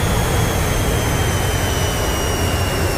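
Steady, loud roar of a MiG-15bis jet engine in the DCS flight simulator, a continuous broadband rumble with a thin high whine running throughout, no pauses or talk.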